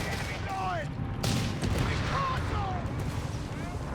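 Distant mine explosions in Company of Heroes 3, muffled booms and gunfire rattling across the battlefield amid steady combat noise, with faint unit voice chatter mixed in.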